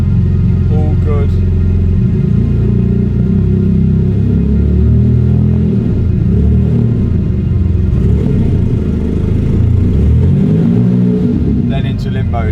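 A faulty Porsche GT3 RS engine revs up and down repeatedly at close range, a loud rumbling roar rising and falling in several swells, with voices talking over it.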